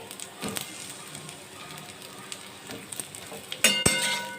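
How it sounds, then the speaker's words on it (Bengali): Lightly fried eggplant and added potatoes sizzle softly in a pan for a bitter gourd curry, a quiet frying hiss broken by a few clinks and stirring scrapes near the end. "বেগুনগুলো হালকা করে ভাজা হয়ে গেছে, তো এবার আমরা আলুগুলো দিয়ে দেবো এখানে"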